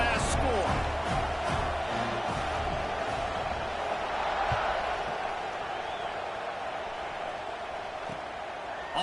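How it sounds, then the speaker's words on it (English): A college football stadium crowd roars with a dense, steady buzz after a touchdown, loud and continuous throughout, while a commentator talks over it. "this crowd is buzzing after that last score"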